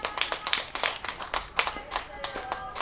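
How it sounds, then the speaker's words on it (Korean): Audience applause at a Saturday daytime outdoor performance during the Haman poppy festival, a burst of scattered clapping mixed with an emcee's talk and crowd noise. "박수 한번 쳐줘요"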